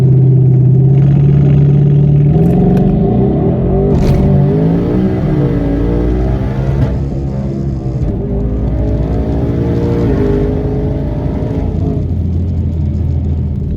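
A twin-turbo Mustang drag car makes a quarter-mile test pass, its engine roaring loud and steady as revs climb and shift, a continuous heavy rumble throughout.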